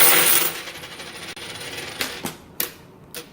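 Quarters clatter as they drop for laundry, a loud rattling cascade at first, then a few separate clinks of single coins falling near the end.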